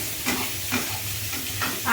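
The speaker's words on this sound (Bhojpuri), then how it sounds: "एकरा के काट के डाल दे तनी तड़का लगा दे" Spices hit hot oil for tadka in a frying pan, giving repeated sizzling bursts as the mix is stirred, close and steady with no talk.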